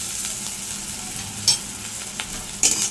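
Ginger is stirred into spices frying in oil for a pabda fish curry, giving a soft steady sizzle with a couple of sharper spoon scrapes near the pan.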